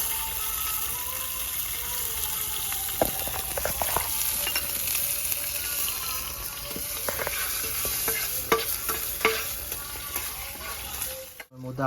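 Chopped garlic frying in a pan on a strong flame, a steady loud sizzle throughout with scattered stirring clicks and scrapes, and a brief drop at the very end.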